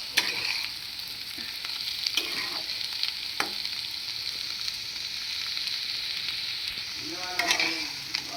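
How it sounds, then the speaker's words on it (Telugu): Potatoes frying in a pan with garlic and chili powder, a steady close sizzle with occasional stirring scrapes and clinks over the continuous crackle. "ఇప్పుడైతే వేగిపోయిందండి."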